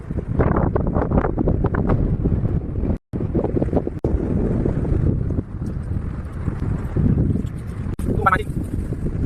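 Strong wind buffets the microphone on a stormy beach, a continuous loud roar with brief gaps, while someone talks over it.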